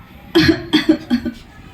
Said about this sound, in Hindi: वे बहुत कमजोर लग रही हैं और लगातार खांस रही हैं।